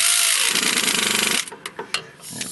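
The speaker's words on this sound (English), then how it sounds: "We can use the Ugga Dugga gun here for the initial snug." Impact wrench snugging bolts on a John Deere 5055E tractor starter, a loud continuous whirring hammer rattle for about a second and a half, then several short bursts.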